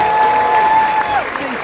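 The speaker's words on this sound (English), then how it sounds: "How about a round of applause for you guys?" An audience at an army welcome ceremony applauds new soldiers, a steady wash of clapping under a voice speaking over it.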